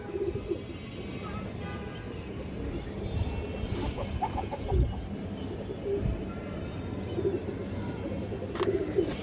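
Pigeons of various fancy breeds kept for sale coo softly in a few low, rolling calls with occasional chirps over steady background noise, heard close by.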